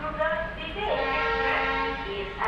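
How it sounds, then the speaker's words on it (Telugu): An empty MEMU train rake running from Machilipatnam to Dharmavaram passes close by, a steady loud rumble of wheels and motors with a horn-like tone that swells midway. "ఇక్కడ ఒక ఎంటీ రేక్ అని కనిపిస్తుంది కదా, ఇది మెమూ ట్రైన్."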